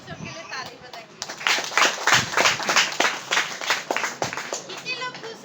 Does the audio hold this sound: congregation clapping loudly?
yes